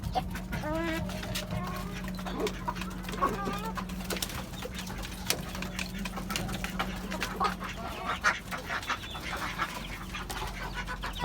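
Domestic hens cluck and murmur on a rooftop poultry farm that also keeps ducks and pigeons. The calls come close and repeated over a constant low mechanical hum, with a few sharp knocks in between.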